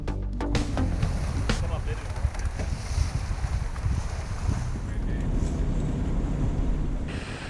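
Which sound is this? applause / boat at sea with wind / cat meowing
boat at sea with wind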